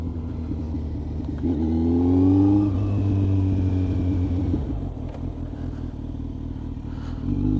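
Kawasaki Z900 motorcycle fitted with a Leo Vince GP Corsa black slip-on exhaust, the engine revving up in a loud, rising pull and then settling back to a rumbling idle, heard close.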